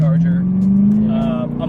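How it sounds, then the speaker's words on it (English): A loud, close V8 engine drones with a steady rising whistling whine over its low rumble, a powerful Chevrolet Camaro ZL1 under acceleration. "It's not every day I drive a car that whistles like that, and it's a V8"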